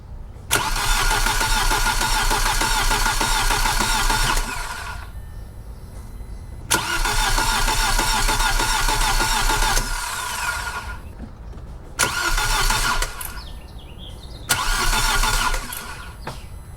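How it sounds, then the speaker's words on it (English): An Audi B6 A4 engine cranks without catching, with its injectors and coil packs disconnected: four separate bursts of loud, steady starter whirring, each lasting two to four seconds with pauses between them, close by. "I'm just going to crank over the car a few times"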